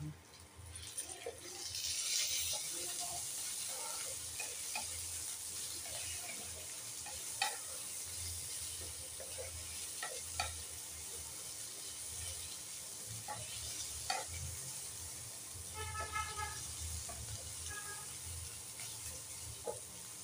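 Chopped tomato goes into a pan of frying garlic and ginger, producing a low continuous sizzle under scattered utensil clicks and taps, fairly quiet and close throughout.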